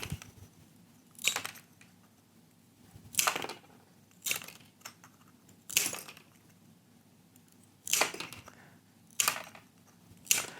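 Tile nippers snap through mosaic pieces in sharp, close, crisp cracks, about eight cuts spaced irregularly a second or so apart, with near silence between them.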